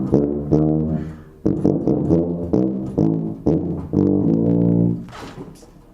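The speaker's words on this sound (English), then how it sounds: "the last 4 bars will just sound like this" Tuba playing the closing four bars of an etude, a close, loud, low brass line of distinct articulated notes in a steady rhythm with short pauses, ending on a sustained tone, no talk.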